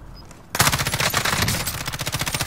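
Rapid automatic gunfire in a video game starts abruptly and keeps going as a loud, close, rhythmic burst of repeated shots.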